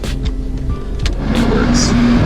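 Automatic heater of a 1984 Mercedes-Benz R107 380SL blowing inside the cabin: a steady, loud whoosh of airflow over a low motor hum, with brief faint voice sounds.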